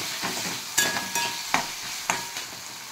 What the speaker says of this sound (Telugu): కట్ చేసి పెట్టుకున్న 2 పచ్చిమిరపకాయలు అలాగే 2 ఉల్లిపాయ ముక్కలు ఇందులో వేసి వీటిని బాగా ఒకసారి కలపాలి